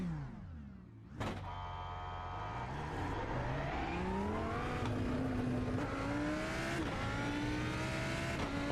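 A Lamborghini GT3 race car engine in the racing game iRacing, at Suzuka, starts with a sharp burst, then revs and climbs through the gears, its loud rising whine sweeping upward repeatedly.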